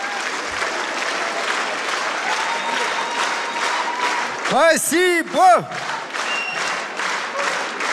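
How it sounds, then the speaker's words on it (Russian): Audience at a large solo concert clapping steadily throughout, a dense crowd applause with a voice speaking briefly over it near the middle. "Продолжаем хлопать."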